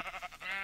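A Minecraft sheep bleats in a short wavering call of a few pulses, close and clear with no talk over it.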